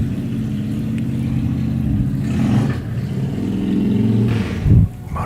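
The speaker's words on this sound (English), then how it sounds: "I do not care for motorcycles. The noisy ones, anyway." Noisy motorcycles pass nearby outdoors, a continuous rumbling engine roar that swells and fades as they go by, loud and close, with no voices.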